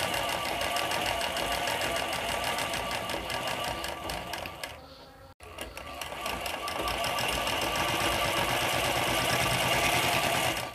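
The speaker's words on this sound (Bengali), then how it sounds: "স্টিচ লেন্থ 5 দিয়ে সাধারণভাবে আপনারা যেভাবে সেলাই করেন ঠিক এইভাবে আপনাদেরকে সেলাইটাকে করে যেতে হবে।" Sewing machine running continuously while stitching fabric at stitch length 5 to gather it, a steady loud mechanical whir with rapid needle rhythm, briefly pausing near the middle before resuming.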